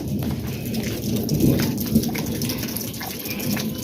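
Hailstorm with heavy rain and rumbling thunder over a house compound: a dense, loud, continuous downpour with deep low rolls underneath and no voices.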